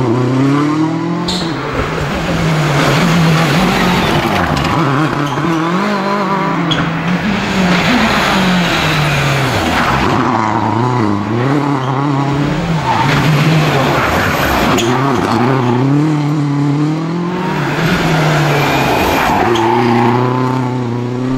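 A Peugeot 307 WRC rally car on a test session ahead of the Rallye des Bornes, its engine loud and continuous throughout, revving up and down through gear changes with occasional tyre squeal, close by and alone without voices.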